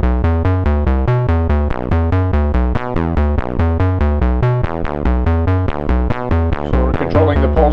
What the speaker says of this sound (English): we're going to run that envelope generator to one of our oscillators to control the pulse width.